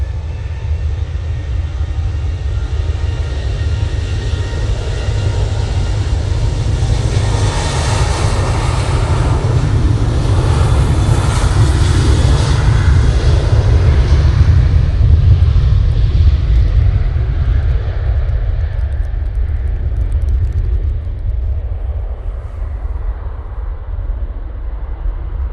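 A jet airliner departs for Cologne, its engine roar broad and steady for about twenty seconds and swelling in the middle, then easing slightly as it climbs away, no voices over it.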